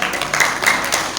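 Short burst of applause from an assembled audience at an inauguration ceremony for KERIS officials in Pekanbaru, a brief, steady wash of many hands clapping.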